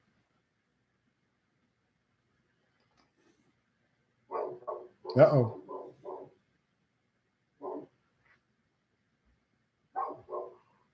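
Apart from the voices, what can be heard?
dog barking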